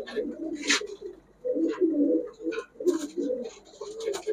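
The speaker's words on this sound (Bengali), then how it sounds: "দর্শক কবুতর গুলা দেখেন" Pigeons of the Kaldom, Mayna and high-flyer Giribaz breeds coo close by in repeated soft, throaty bursts, with brief higher flutters between them and no talking.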